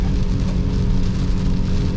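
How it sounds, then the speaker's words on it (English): Heavy rain from Tropical Storm Fred drums on a car windshield from inside the vehicle, a loud, dense, continuous patter with a low road or engine rumble beneath and no speech. "You hear the rain hitting the windshield, I hope."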